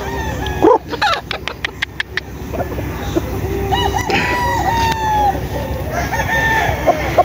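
Roosters crow repeatedly over a busy yard, with several long, overlapping calls and scattered clucking, plus a few sharp knocks early on.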